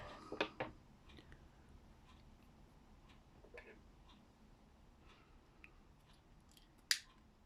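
Scissors cut a ribbon diagonally while making a ribbon leaf, giving faint, sparse snips: a small cluster near the start and one sharp cut near the end, with quiet room noise in between.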